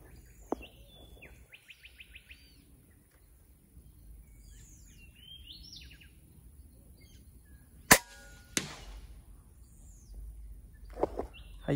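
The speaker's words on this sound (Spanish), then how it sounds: "Vamos a soltar nuestro tiro al centro y calmados." A Vulcan .25 rifle fired at a car door from 100 metres in a humid open field: one sharp, loud crack with a brief trailing rumble, among faint birdsong and a few soft clicks outdoors.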